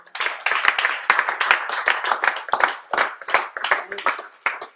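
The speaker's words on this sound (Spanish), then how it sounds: "Dale aplauso al Señor." Rhythmic clapping from a church congregation, hands striking in quick, fairly even bursts in a roomy space, moderately loud and with no talk over it.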